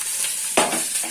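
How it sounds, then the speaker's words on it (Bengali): Raw banana slices fry in hot oil with a steady close sizzle, broken by a sharp stirring scrape midway, and nobody talks. "কাঁচকলাগুলো আমার ভাজা হয়ে গেছে।"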